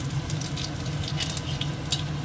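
Cumin seeds sizzle and crackle in hot oil in a home kitchen, a steady close frying hiss with scattered pops continuing alone for a couple of seconds.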